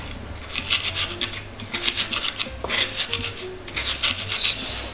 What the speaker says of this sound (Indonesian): Kita ulek sampai hancur dan tercampur semuanya.